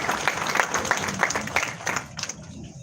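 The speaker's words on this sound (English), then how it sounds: "A round of applause once again for the NUJ scribe." Live event audience clapping for the NUJ scribe, a brisk burst of individual claps close to the recorder that thins out and stops near the end.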